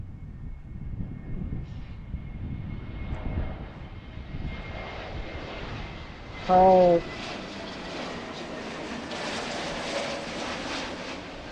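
An airliner's jet engines roar steadily near Philadelphia airport, swelling and rumbling as a plane passes close by, with a brief burst of sound midway and a voice speaking briefly.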